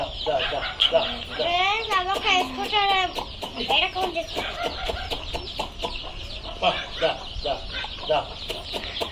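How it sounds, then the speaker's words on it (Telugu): Free-range country chickens cluck and squawk close by in a busy flock, with sharp repeated calls and rising cackles over a rural background, while a person talks between them. "ఇక్కడైతే మా కోళ్ళన్నీ ఉన్నాయి."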